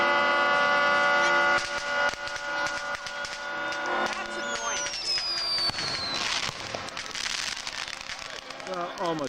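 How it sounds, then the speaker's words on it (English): Fireworks set off by private parties at the water's edge in the San Juan Islands on the Fourth of July crackle and pop continuously, with a whistling rocket rising, amid noisy outdoor background and voices. "What you're seeing is just private parties setting stuff off at the water edge."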